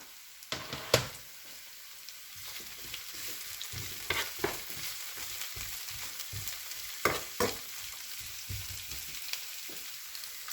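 Asparagus and broccoli fry in a pan with a steady low sizzle, broken by sharp scraping stirs and clanks of the utensil at irregular intervals.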